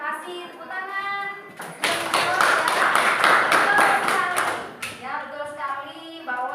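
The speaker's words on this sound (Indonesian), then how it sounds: "Tepuk tangan." An audience breaks into a burst of clapping at a health mentoring session, lasting about three seconds between stretches of a speaker's talk.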